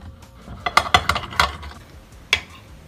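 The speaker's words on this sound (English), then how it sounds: "So what I'm going to do now is just kind of cut this steak into strips." A knife slices cooked steak into strips for a cheesesteak, giving a quick cluster of sharp clicks and taps against the plate or board, then a lone click a moment later. No one speaks.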